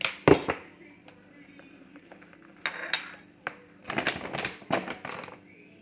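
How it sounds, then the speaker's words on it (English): Homemade toothpaste with Himalayan pink salt being mixed in a bowl; scattered clinks and scraping taps of a utensil against the dish, in short bursts with quiet gaps between. "Okay, mix it. Yep, and then mix."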